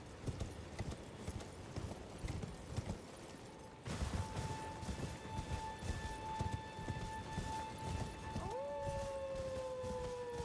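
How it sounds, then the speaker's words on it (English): A wolf howl in the video game Elden Ring rises as a long, clear, drawn-out tone after several seconds of ambient noise with faint hoof-like clopping, then bends and falls away near the end. "When you hear the wolf howl"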